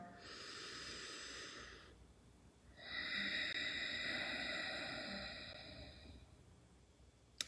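Two long, forceful Ujjayi pranayama breaths, hissing, throaty exhales with a constricted airy rasp, the second one longer and stronger, close and alone.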